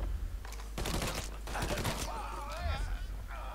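Gunfire in the crime game Mafia III comes as a few sharp, close shots mixed with game noise, while someone talks over it and an excited voice rises near the end.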